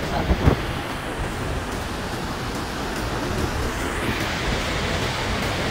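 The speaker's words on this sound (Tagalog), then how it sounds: "Mahangin." Wind at Bondi Beach in Sydney rushes steadily across the microphone, a dense, even roar mixed with distant surf, with no talk.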